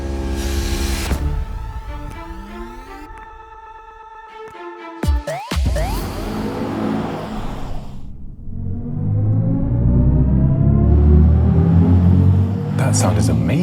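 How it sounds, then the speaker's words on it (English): BMW i5 all-electric car in sport mode, a synthetic drive sound with rising and falling tonal sweeps, a brief pause with sharp clicks, then a swelling low rumbling drone that grows louder toward the end. "That's sport mode."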